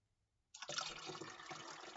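Water pours steadily into a container after a brief silence, a close, bright rushing gush that holds for about a second and a half with no talk over it.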